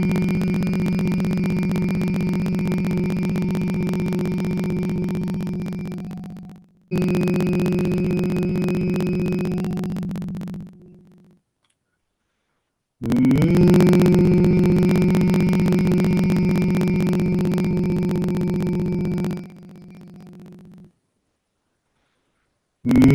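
Continuous human humming for a breathing exercise, a steady low droning tone held in three long stretches separated by short silent breaths, loud and close with no talk.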